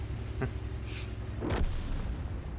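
Heavy tank cannon fire from a 304 in the World of Tanks game: a short sharp crack, then about a second later a loud booming shot with a rolling low rumble, over a constant deep engine drone and no talking.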